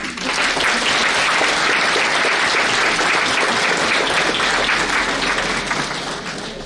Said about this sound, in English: Students, please recognize them with a much-deserved round of applause.